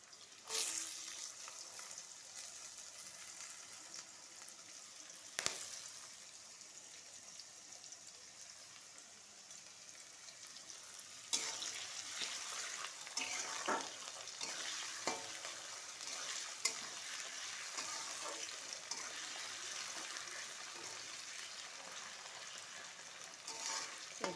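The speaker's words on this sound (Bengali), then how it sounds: "একটু ভাজা ভাজা করে নেব।" Potatoes are added to carrot already frying in a pan for sago khichuri. A continuous close sizzle runs under sharp scrapes and knocks of stirring, growing louder and denser about halfway through.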